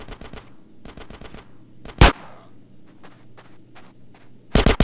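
Gunfire in GTA San Andreas, with rapid machine-gun bursts in quick groups of shots, a single loud blast in the middle, sparser pops after it and a final loud volley.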